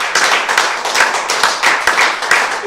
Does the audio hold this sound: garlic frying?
no